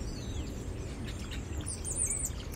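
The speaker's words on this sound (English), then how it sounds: "The tree is filled with all kinds of birds to serenade us" Birds sing and chirp in a willow tree on a sunny California coastline, faint scattered high tweets over a steady low rumble of wind and surf, with no talking.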